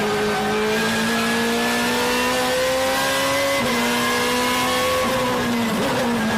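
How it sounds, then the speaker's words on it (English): BMW M3 GTR with a 4-liter V8 in the game Need for Speed Most Wanted, a loud engine howl climbing steadily through the revs, briefly dipping at a gear change and then rising again, with some tire noise. "Monster of a 4-liter V8 engine."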